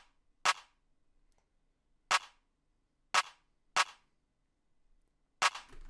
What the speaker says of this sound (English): So the clap will sound like this.